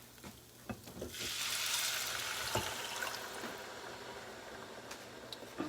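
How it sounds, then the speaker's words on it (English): About two cups of water poured into a pan of toasted rice sets off a surge of hissing sizzle that slowly settles into a steady bubbling hiss, with a few clinks and no talk. "Now I'm going to add my 2 cups of water."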